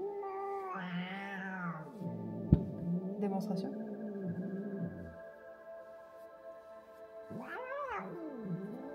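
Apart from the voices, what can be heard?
cat crying while being brushed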